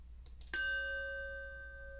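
A single chime rings during a worship service after two soft knocks, its clear tone sustaining and slowly fading, fairly quiet over a low background hum.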